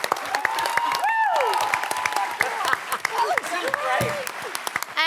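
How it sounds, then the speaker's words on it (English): At a San Diego Comic-Con Wonder Woman 75 panel, a convention crowd applauds and whoops in a loud sustained burst, with excited voices and a cheer rising over the clapping. "Give them a round of applause, you guys."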